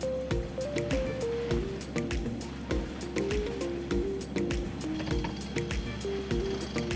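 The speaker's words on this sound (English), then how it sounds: "We're motor sailing today to get all the speed we can." Sailboat motor sailing in Florida waters with mainsail and headsail up, a steady engine drone carrying wavering tonal hums beneath continuous rushing water and slapping waves, with many sharp knocks and clicks on deck.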